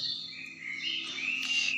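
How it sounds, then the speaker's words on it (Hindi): Small birds chirp and tweet in a high, thin, continuous twitter outdoors, fairly faint and steady, with a low background hum underneath. "चिड़िया बोल रही है"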